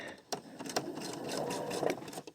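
Sewing machine stitching forward along a center gore seam on a T-tunic, a quiet rapid mechanical whir with a few clicks, close by, while a voice speaks over it.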